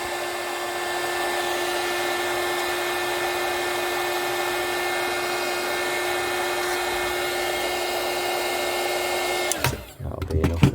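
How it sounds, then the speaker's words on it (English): A small heat gun used for shrinking heat-shrink tubing while stripping down a Vox AC30 amplifier blows a steady, even whoosh with a faint motor whine for about nine seconds, then cuts off abruptly and leaves a few light handling knocks. "Now this is just the gun I use for the heat shrink, so it's not a really powerful one."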